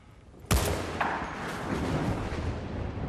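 A single loud gunshot in the video game Battlefield Bad Company 2, a sharp crack followed by a long rumbling echo and battlefield noise, with no voices.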